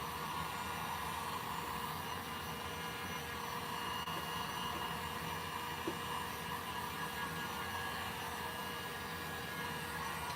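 A hair dryer or heat gun blows steadily at close range on a tin metal wall pocket, a constant airy whir with a faint motor hum that never changes.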